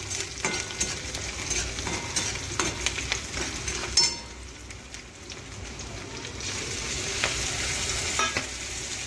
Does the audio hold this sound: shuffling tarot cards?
no